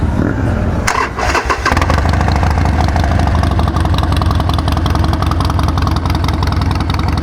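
Harley-Davidson Sportster Custom XL1200C cranking over and firing up within the first second, then settling into a loud, steady, close idle burbling through its exhaust pipes for several seconds.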